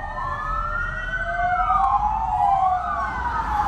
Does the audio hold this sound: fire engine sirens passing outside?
yes